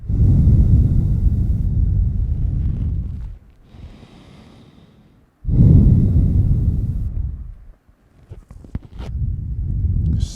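Slow, deep breathing during a yoga session comes as long airy breaths close to the listener, each lasting a few seconds and separated by brief quiet pauses.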